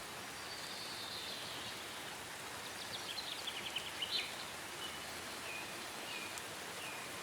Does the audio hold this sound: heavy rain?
yes